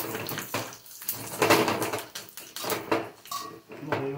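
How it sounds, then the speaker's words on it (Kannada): Cumin and curry leaves tempered in a hot pan for drumstick leaves chutney, heard close as bursts of sizzling and spitting mixed with clinks and clatter of metal utensils, rising and falling in short waves. "ಕ್ಲೀನಾಗಿ ಒಗ್ಗರಣೆ ಹಾಕಿ"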